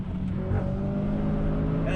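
A Renault Clio IV RS with 250 bhp and four people aboard accelerating, its engine a loud, steady in-cabin drone that holds strong throughout, with voices talking over it.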